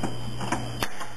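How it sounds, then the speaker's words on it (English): Wire cutters snip through metal hinge pins on an RC model aircraft's control surface, making three quick, crisp clicks close to the microphone over a steady background hum. "Just take a pair of wire cutters, basically. Snip, snip,"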